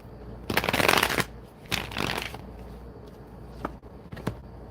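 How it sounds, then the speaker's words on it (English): Tarot cards being shuffled by hand, a couple of loud riffling bursts followed by softer taps and flicks as the deck settles, with no talking. "One more shuffle."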